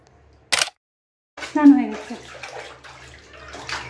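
A young child sits in bath water at home, and one quick splash is heard close by. After a short pause, a voice and an adult's voice follow.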